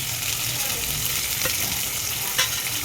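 Mustard seeds, chopped onion and green chilli frying in hot oil with cumin, a steady close sizzle with light stirring and a couple of sharper crackles, no talking.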